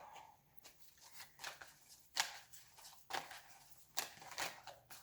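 Tarot cards shuffled by hand during a reading, a soft run of quick riffling rustles and light slaps in irregular bursts, fairly faint and close, with no talk over them.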